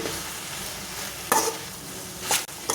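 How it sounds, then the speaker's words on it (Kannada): Okra frying in hot oil gives a steady, soft sizzle, broken by a couple of sharper scraping bursts as the pan is stirred. No voices are heard. "ಸ್ವಲ್ಪ ಫ್ರೈ ಮಾಡ್ಕೊಳ್ಳಿ"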